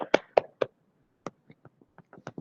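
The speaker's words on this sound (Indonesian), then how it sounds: "Beri tepuk tangan untuk teman-teman yang sudah presentasi" Scattered hand claps from a small classroom group after a peer-teaching presentation: a few loud claps first, then sparse, fainter ones trailing off with gaps between them.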